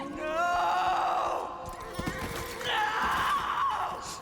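A horse in the Darksiders 3 video game whinnies loudly and at length, with a shrill, wavering cry, joined by faint hoof-like clatter and a second, rougher neigh near the end.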